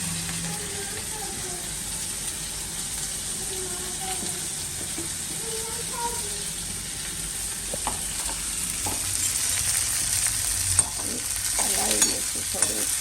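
Potato and cauliflower sabzi sizzling in a pan after asafoetida goes into the hot oil, a steady bright hiss with scraping and stirring clatter that grows busier toward the end, with no talk.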